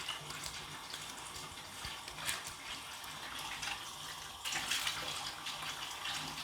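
Water from a tap rinsing a skin-brightening face mask off the face: a steady, soft splashing stream that briefly swells around the middle and grows fuller and brighter in the last couple of seconds.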